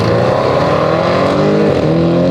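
A modified Audi RS6 and a Mercedes C63 launch side by side in a drag race. Loud engines climb in pitch, briefly shift, then keep roaring close by.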